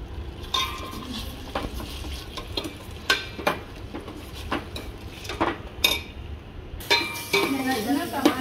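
Coriander-cumin paste frying in a pan for Telangana rasam, a close sizzle under frequent utensil scrapes and clinks against the metal, a brief pause near the end before the stirring resumes.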